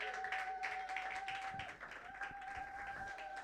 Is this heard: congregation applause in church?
yes